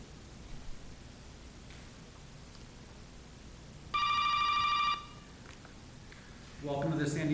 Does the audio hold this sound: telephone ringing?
yes